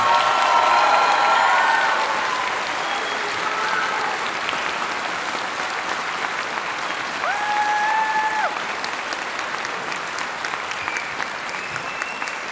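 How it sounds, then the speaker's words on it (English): Audience applause for the Grand Ledge Marching Band at a fall festival of bands, a steady broad wash of clapping that stays fairly loud throughout, easing slightly after the first couple of seconds, with a few faint tonal sounds over it. "one more round of applause for the Grand Ledge Marching Band"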